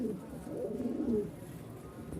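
Pigeons kept in a group for sale coo with soft, low, throaty bubbling calls that rise and fall continuously over a short stretch, fairly close and moderately quiet.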